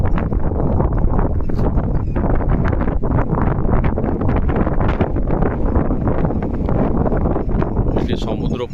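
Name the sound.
strong wind during Cyclone Montha at Gopalpur beach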